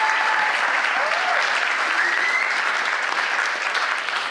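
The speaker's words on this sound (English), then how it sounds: "This is worth an applause that our guest is such a magnet" A packed cinema audience applauds a guest at a graffiti career talk, a dense, steady wash of clapping at full loudness that fills the whole stretch without pause.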